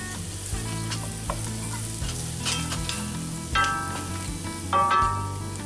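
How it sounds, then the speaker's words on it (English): Butter melting and sizzling in a hot pan while shrimp and grits are being cooked: a steady frying hiss with occasional stirring scrapes and a couple of louder spatters. "We're going to go in about 2 tablespoons of butter. I'll let that melt down in there"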